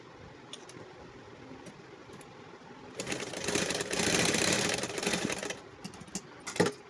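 A sewing machine runs in a single burst of stitching on a pant, loud and steady for about two seconds before trailing off, with quieter handling noise before and after.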